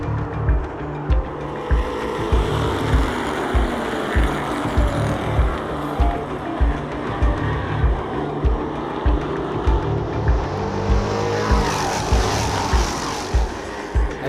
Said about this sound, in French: Le 55, William Larue part en dérapage.